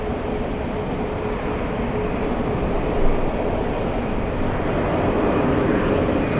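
Asiana airliner at LAX, a steady broad jet roar heard from a distance that swells slightly toward the end, with no talk.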